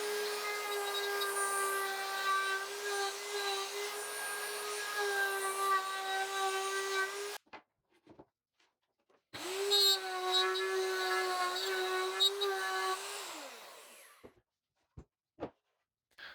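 Router cutting a circle in wood on a circle jig, a loud, steady high-pitched whine for several seconds, a brief stop, then another sustained run that winds down, ending in a few faint knocks.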